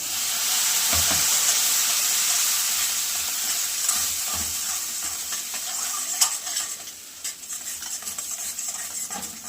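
Water poured into a pan of frying masala for bhajyachi bhaji, a loud hissing sizzle with scraping and clinking of a utensil against the pan, growing choppier toward the end.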